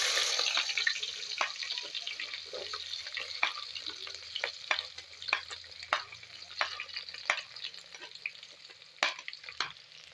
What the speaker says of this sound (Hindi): तो प्याज ऐड करने के बाद हम इसको अच्छी तरह हिलाएंगे। तो अब आप देख सकते हैं हमारा प्याज लाइट फ्राई हो चुका है।